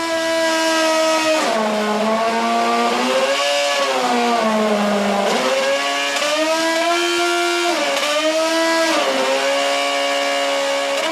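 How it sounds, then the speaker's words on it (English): A car engine is held hard against its rev limiter, a loud, continuous, close engine roar whose pitch bounces and wavers up and down over several seconds with no talk. "On the rev limiter."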